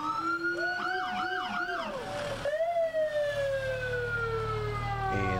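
A fire truck siren wails and yelps during a town anniversary parade, rising and falling tones sounding loud and fairly near over a low engine rumble, shifting to a steady descending wail.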